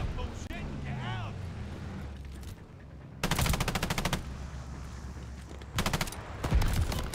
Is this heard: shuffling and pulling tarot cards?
no